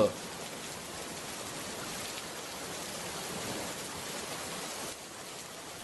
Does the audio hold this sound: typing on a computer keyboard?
no